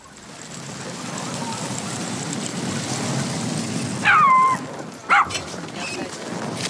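Sled dogs on an Iditarod trail, a couple of sharp yips and barks near the end rising over a steady windy, rain-like background hiss.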